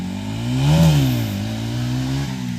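Motorcycle engine revving during stunt riding, one loud rising and falling surge over a continuous close engine drone.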